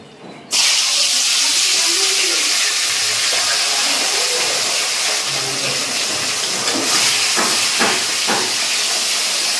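Tilapia pieces rubbed with salt and turmeric are dropped into smoking-hot oil in a kadai, setting off a sudden loud, steady sizzling hiss that continues without a break after a brief quiet start.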